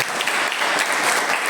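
A church congregation claps together at a Haitian gathering honoring the youth, a dense, steady wash of applause filling the whole moment without a break.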